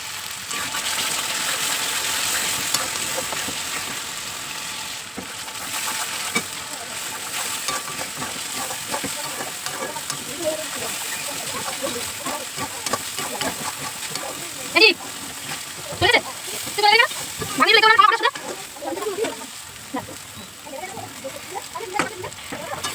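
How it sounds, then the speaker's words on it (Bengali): Spice masala frying in oil gives a steady close sizzle throughout, with stirring scrapes and someone speaking over it in the latter half. "দেখো মশলাটা দিয়ে তেলটা কত সুন্দর ছেড়েছে"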